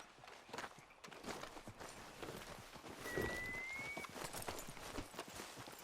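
Horse hooves walk at an even pace in a video game, a soft, fairly quiet clip-clop under ambient background sound, with a brief thin tone partway through.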